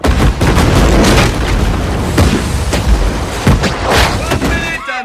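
A warship's cannon broadside in the film Master and Commander, a loud rolling barrage of deep booms and thuds, several heavy blasts overlapping in quick succession and close, with shouting voices mixed in.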